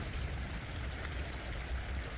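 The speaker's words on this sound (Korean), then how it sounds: "이 물소리 들리십니까? 가장 편안한 소리죠." Stream water flows steadily beside dry reeds at a muddy waterside, a continuous close, even rushing and trickling wash with no voices.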